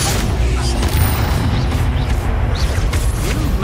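Bombarda explosion spell from the Hogwarts Legacy video game, heavy booming blasts and bursts rolling continuously, loud and dense throughout with a voice mixed in.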